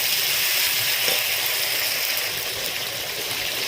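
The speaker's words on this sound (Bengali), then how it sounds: "আদা রসুনের পেস্ট দিয়ে একটু 5 মিনিট ভালো করে নেড়ে নেব" Ginger-garlic paste sizzling steadily in a hot pan while being stirred, a continuous bright hiss and crackle close up, with faint scraping and no talking.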